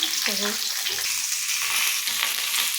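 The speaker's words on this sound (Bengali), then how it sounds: "মাছ ভাজা কমপ্লিট হয়ে গেছে" Fish fries in a pan, with a steady, loud sizzle of hot oil that runs throughout. Close stirring and scraping sounds break into it now and then.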